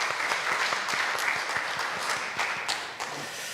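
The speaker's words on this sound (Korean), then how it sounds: "우리 다시 한번 박수로 축복할까요?" A church congregation applauds steadily during a Sunday service, dense clapping filling the room at an even volume from start to finish.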